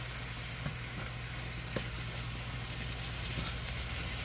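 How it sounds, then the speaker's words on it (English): Green beans with sugar cook in a pan, giving a steady low sizzle with a few faint stirring scrapes. The sound is fairly quiet throughout. "Stir them, stir them, stir them."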